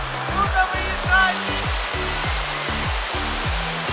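A mountain stream in the Carpathian Chornohora ridge in November rushes with a steady broad hiss of flowing water, under a regular low thumping rhythm, with no talking heard.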